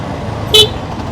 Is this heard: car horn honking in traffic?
yes